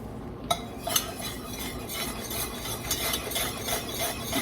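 A spoon stirs pecan praline icing in a pot just moved off the heat, scraping and clinking against the metal in a steady rhythm of light strokes, close and moderately quiet with no talking.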